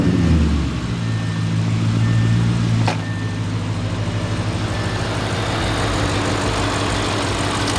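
Straight-piped Audi 4.0T V8 settling into a deep, loud, steady idle with a low throbbing rumble, a sharp click partway through.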